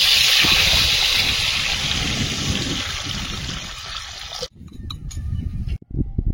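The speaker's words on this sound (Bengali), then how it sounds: "ঝোলটা ফুটেছে" Fish curry broth bubbling in a cooking pot: a steady, close, watery hiss and gurgle that holds for several seconds, then breaks off into quieter stirring noises, with no talk over it.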